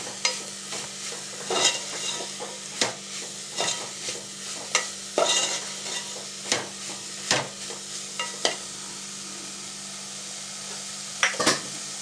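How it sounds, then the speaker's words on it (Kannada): Flat beans (chapparada avarekai) frying with masala in a pan, with crackling sizzle and repeated sharp stirring scrapes coming at irregular intervals, fairly close, with no talking. "ಮಸಾಲೆ ಜೊತೆಲಿ ಸ್ವಲ್ಪ ಫ್ರೈ ಮಾಡೋಣ ಅದು ಚಪ್ಪರದವರೆಕಾಯಿನ"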